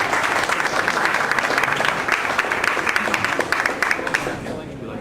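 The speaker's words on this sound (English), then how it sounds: "give them a big round of applause" Audience applause at a meeting welcoming a security expert as speaker, a lively round of dense clapping with distinct individual claps, steady throughout and tapering off toward the end.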